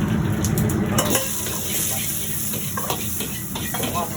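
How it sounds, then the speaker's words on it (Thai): Fish stir-frying in a pan for a dry Singapore-style basil fish dish, a steady loud sizzle with scraping stir strokes running throughout, briefly louder near the start. "เป็นการผัดแล้วนะครับ"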